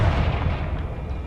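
The Confringo fire spell in Hogwarts Legacy explodes with one loud, booming blast that rumbles and fades over about a second.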